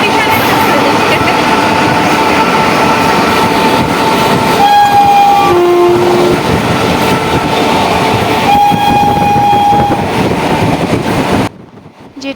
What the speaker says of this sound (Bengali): যে ট্রেনটা তখন দাঁড়িয়েছিল যে শিয়ালদা জঙ্গিপুর, সেটাও চলতে শুরু করেছে। দুটো ট্রেনই একসঙ্গে পাল্লা দিয়ে চলছে।